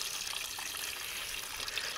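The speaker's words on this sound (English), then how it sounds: "see what kind of horrid abomination of liquid comes out of here" Old coolant flushed with water drains in a steady, continuous splashing stream from a 1985 Mercedes 300CD, close and fairly loud throughout, with no voices.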